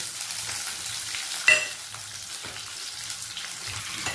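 Onions and green chillies frying in a pan, a continuous close sizzle with a sharp clatter near the start and light stirring scrapes, no voices.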